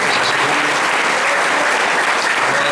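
Church congregation clapping in praise, a dense, loud and continuous round of applause filling the whole moment without pause.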